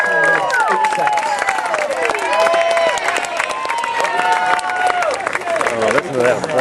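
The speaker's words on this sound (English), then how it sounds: "Oh, listen to that applause" A crowd at the awards ceremony of the 2012 9 Hours of Cranky Monkey mountain bike endurance race claps loudly and continuously, with whoops and shouted cheers riding over the applause.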